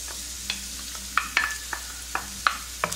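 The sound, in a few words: minced garlic sizzling in oil in frying pan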